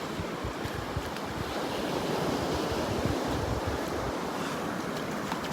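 Steady surf washes onto the beach at Delnor-Wiggins Pass State Park in North Naples, Florida, a continuous rushing roar mixed with wind buffeting the microphone, with no one talking.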